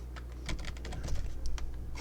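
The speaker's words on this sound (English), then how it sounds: "Sorry, it's a new keyboard." Rapid, uneven clatter of keys being typed on a new computer keyboard, close and fairly loud, with short bursts of keystrokes and brief pauses between them.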